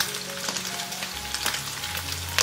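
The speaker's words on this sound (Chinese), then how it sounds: "接着我们来起锅热油，等油温热了，把肉末放进来炒香。" Minced pork fries in hot oil in a wok, a close, continuous sizzling hiss broken by a few scraping stir strokes and a sharp clack near the end.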